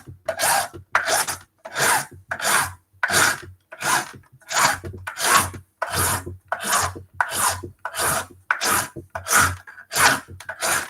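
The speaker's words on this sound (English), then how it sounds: "So I'm going to have to get the file." A coarse file rasps across a plastic toy shell in steady back-and-forth strokes, about a dozen evenly spaced scrapes close up and loud, each stroke a rough burst separated by brief pauses, with no talking.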